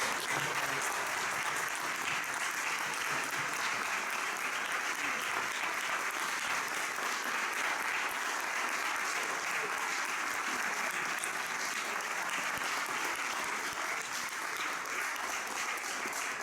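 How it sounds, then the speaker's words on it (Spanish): Sustained applause from an audience at an academic recognition event honoring Dr. Ricardo Gil Lavedra, a steady, even wash of many hands clapping continuously with no letup. "Les pido un fuertísimo aplauso para el doctor Ricardo."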